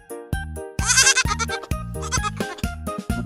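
Goat bleating in a run of loud, cheerful, wavering calls, several bleats in quick succession with brief gaps, close and clear with no talking.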